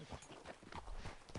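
A chocolate roan horse's hooves clip-clop at a relaxed walking pace in Red Dead Redemption, steady and close, set over a soft, busy outdoor background with no speech.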